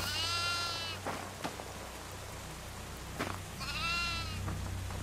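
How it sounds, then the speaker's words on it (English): A goat bleats twice in the horror video game Devour, wavering cries at the start and near the end over a steady rain-like ambient hiss. "there's a goat right here."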